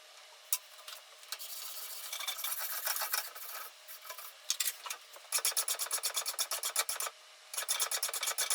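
Metal part of a Record 112 heavy duty vice being deburred with a file, steady rasping strokes that turn into a fast, regular run of close scraping passes near the end.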